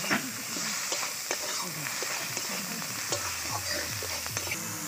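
Onions fry in hot oil with turmeric, chili, coriander and cumin powder, a continuous close sizzle broken by repeated scraping stirs of a spoon in the pan, with no talking.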